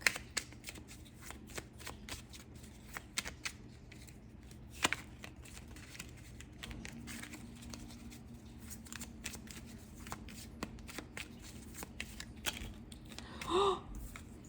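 Tarot cards being shuffled close up, a soft riffling and flicking that continues throughout with small taps and handling noises.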